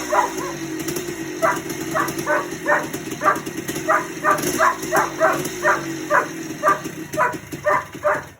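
A dog barks repeatedly in an even, quick rhythm over a constant low mechanical hum.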